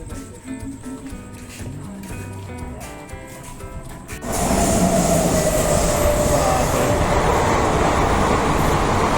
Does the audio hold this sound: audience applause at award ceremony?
no